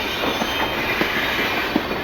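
A toy-style train rolls along tracks into a work shed, giving a steady close rumble with faint rhythmic clicks of wheels over rail joints.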